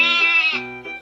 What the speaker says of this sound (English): When the small sheep baas,